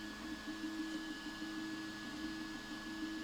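Cooling fan of a Prusa i3 Mk2 3D printer fitted with Drylin linear bearings, a faint, steady whirring hum with a constant tone, heard alone.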